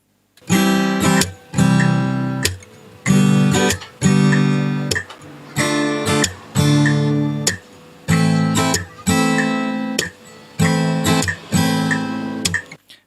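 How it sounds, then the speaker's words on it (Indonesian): Acoustic guitar strummed in repeated chord bursts, about nine short full-sounding strums separated by brief pauses, close and fairly loud, with no talking. "itu adalah suara asli gitar yang saya rekam."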